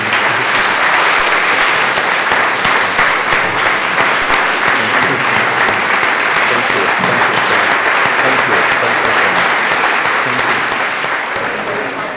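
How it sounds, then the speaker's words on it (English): Sustained applause from a large audience for speakers after a public talk, steady and dense clapping throughout, close and loud, with no talk over it. "One last round of applause for our speakers."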